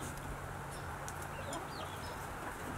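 A hen clucks softly a few times amid steady outdoor background noise, with faint bird calls higher up.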